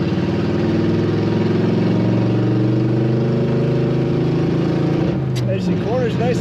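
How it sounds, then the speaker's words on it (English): A 1936 Ford Deluxe 3-window coupe with upgraded suspension runs with a steady, throaty exhaust rumble close by. A voice briefly cuts in near the end. "Nice throaty note in the exhaust of this car."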